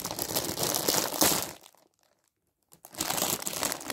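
A new trading card pack wrapper is torn open, loud close crinkling and crumpling of foil plastic for over a second, a brief silence, then more crinkling.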